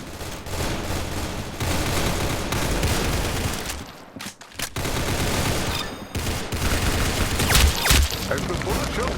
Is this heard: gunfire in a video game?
yes